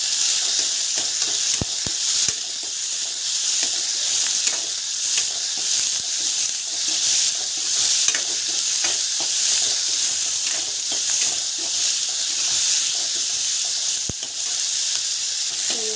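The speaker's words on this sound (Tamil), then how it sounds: "பூண்டு வெங்காயம் ரெண்டுக்கு வந்து ஆட் பண்ணிடலாம். நல்லா வந்து இந்த மாதிரி வந்து வதக்கிக்கலாம்." Garlic and onion sautéing with fenugreek in a pan for a village-style dish, a loud steady sizzle with frequent stirring clicks and scrapes, close and continuous, with no talk over it.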